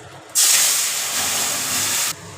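A loud, sudden sizzle erupts as lentils hit hot oil with fried cumin, holding as a steady bright hiss for nearly two seconds before dropping away.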